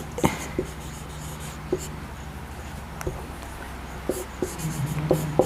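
Chalk or marker tapping and scratching against a board while words are written, with a series of short, sharp strokes and clicks at irregular intervals close by, over a low room hum.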